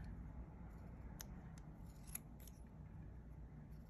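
Scissors trimming around paper collage words, a few faint, crisp snips close by over a low steady background hum.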